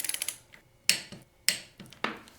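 Torque wrench tightening motorcycle hub bolts, a faint ratcheting clatter followed by three sharp metallic clicks spaced about half a second apart, close by and without talk.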